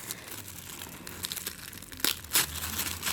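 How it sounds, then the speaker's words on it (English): Tissue paper wrapping is pulled off a Kikki K A5 planner, soft close crinkling and rustling that builds into a few sharper crackling bursts near the end. "some tissue paper that wraps around the planner"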